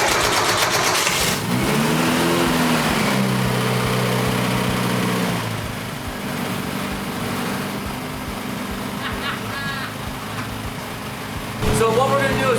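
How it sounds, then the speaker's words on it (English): A classic Mini Cooper engine fitted with an SU carburetor and JET Master intake kit runs steadily while warming, with a loud continuous idle hum and a brief rise in revs near the end. "now that we have some temperature in the motor, we're tuning the idle mixture"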